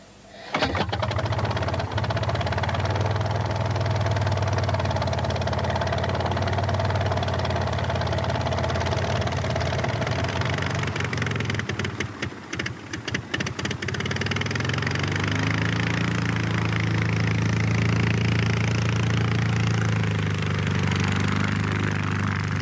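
A small aircraft engine starts with a sputter, then settles into a loud, continuous idle close by. The drone briefly dips and stutters midway before running steadily again, with no talking.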